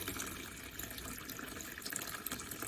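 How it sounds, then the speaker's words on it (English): Tap water runs in a steady, hissing stream into a tub or beaker to fill an electrolysis chamber halfway, close and constant throughout. "you just add water to your tub or"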